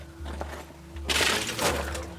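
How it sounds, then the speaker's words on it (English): Brittle old cabling in an abandoned Bell Island iron mine shattering when touched, a sudden crackling break midway, followed by a second smaller crumble, heard close and alone over a low steady hum. "You touch it and it just shatters like ice."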